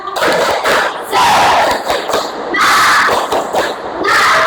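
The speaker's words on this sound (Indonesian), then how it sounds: "Sekali lagi, tepuk semangat." A classroom of students performs a rhythmic spirit clap chant during a lesson on the Hajj, with loud bursts of group shouting and clapping rising and falling in several waves.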